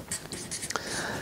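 Pen writing by hand on paper while working a maths problem, short scratchy strokes close up and fairly quiet, with faint breathy sounds in between.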